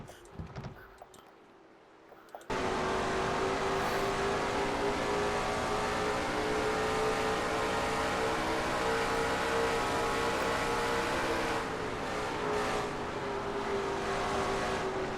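Stock race cars in the NRSL Mello Yello Series roar around the Opryland track, a dense sustained engine drone that cuts in suddenly after a quiet start and holds loud and steady.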